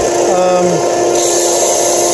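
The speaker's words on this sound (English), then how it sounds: "I think it's picking up all the dust that I'm making, and it's sanding pretty quickly" A Harbor Freight belt sander grinds steadily against wood while a makeshift dust collection hookup runs. The noise is loud and continuous from close by, and its pitch shifts briefly near the start.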